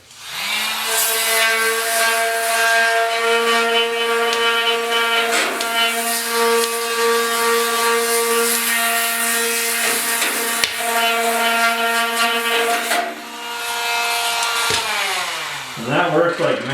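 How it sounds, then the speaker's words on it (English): An oscillating sander fitted with 80-grit paper on a homemade pad whines with a strong, steady tonal hum while sanding the bed bodywork of a 1969 Ford Bronco, running close and loud before slowing and winding down near the end. "I'm using my oscillating sander with my little pad that I built there"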